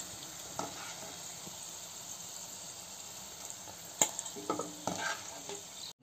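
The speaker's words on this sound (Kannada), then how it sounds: "ಇಕ್ಕಿದ ಅವರೆ ಬೇಳೆನ ಗರ್ಗರಿಯಾಗೋವರೆಗೂ, ಒಂಬಣ್ಣ ಬರೋವರೆಗೂ ಚೆನ್ನಾಗಿ ಕರ್ಕೊಳ್ಳೋಣ ಎಣ್ಣೆಲಿ" Field bean lentils (avare bele) frying in hot oil, a soft steady sizzle with a few sharper clinks and stirring scrapes toward the end, close but quiet, no voices.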